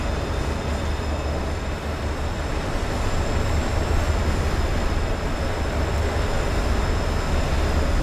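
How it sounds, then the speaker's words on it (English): Trains circling on a loop track in Destiny 2, a loud continuous rolling rumble and rattle that stays steady and close the whole time. "There are definitely certain areas you can just stand and watch the trains go in a loop."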